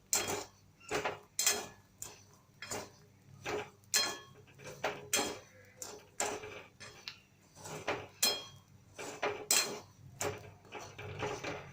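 Salted peanuts roasting in a pan, stirred so the nuts and salt clatter and scrape against the metal in repeated loud bursts, a steady rhythm of gritty rattles with short pauses between.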